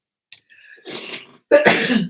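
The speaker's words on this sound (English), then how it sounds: "I was sneezing." A sneeze: a short intake of breath followed by two loud bursts of sneezing close to the microphone, alone with no speech.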